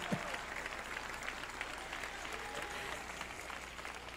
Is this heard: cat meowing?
no